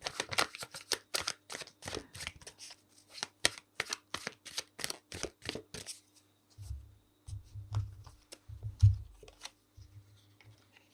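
Tarot cards are shuffled in quick, crisp flicks and riffles for several seconds, followed by a few soft low thumps and quiet handling, with no speech.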